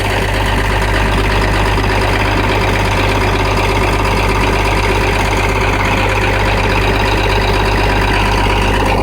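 An International Harvester 656 farm tractor's diesel engine idles after a cold start, a loud, steady, close rumble with a knocking chug and no pauses.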